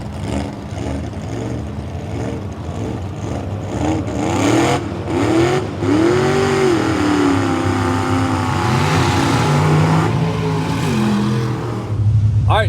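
A supercharged big-block truck on its first run roars loudly as it accelerates, its engine note climbing and dropping through the gear changes, heard near and continuous.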